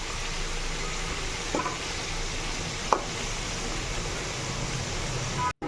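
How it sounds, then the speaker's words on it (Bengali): Potatoes frying in oil give off a continuous, even sizzle throughout, broken by a couple of faint clicks and ending abruptly. "আর একটু ভেজে নিয়ে তুলে নেব আলুটাকে"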